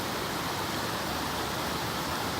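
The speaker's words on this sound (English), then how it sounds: "Pretty cool waterfalls." Waterfalls on the Algonquin Highland Trail roar in a steady, dense, unbroken rush of falling water, loud and close with no voices or other sounds over it.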